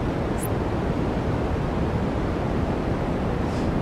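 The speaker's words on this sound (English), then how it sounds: "This is a white noise machine." A white noise machine hisses out a steady, even broadband wash of white noise, loud and unbroken from start to finish, with no voices over it.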